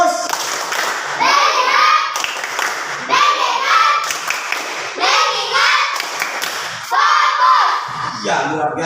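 Schoolchildren in an Islamic religious-education classroom perform a rhythmic focus-clap routine, bursts of loud unison clapping and chanting voices repeating in several rounds, each group of claps followed by a short pause.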